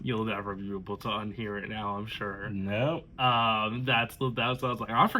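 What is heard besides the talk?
None of the usual background noises is heard.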